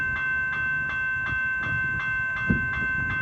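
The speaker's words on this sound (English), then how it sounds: "Doodlebug pulling up in the station." A dual-carriage Doodlebug railcar pulls into a station in heavy rain, its engine droning steadily with a faint rhythmic wheel clatter, one sharp clunk near the end, and rain hissing throughout.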